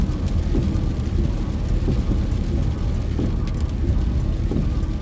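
Steady rain pours down during a storm drive on Highway 38 from Forest Falls to Angelus Oaks, a dense continuous wash with a low rumble underneath and scattered small ticks, with no talk.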